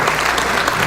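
Dense, steady applause from a lecture audience greeting Víctor Coronel Chauca, a professor at the State University of New York, sustained and even throughout.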